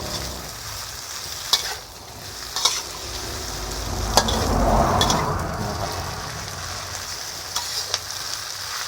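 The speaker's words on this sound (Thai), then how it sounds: "ใส่เส้นใหญ่ลงไปนะครับ เส้นใหญ่นี้ก็ผัดกับซีอิ๊วไปแล้วนะครับ" Wide rice noodles with soy sauce are stir-fried in a hot pan, likely for pad see ew with egg, sizzling steadily while the spatula scrapes and knocks against the pan in a few sharp, irregular hits.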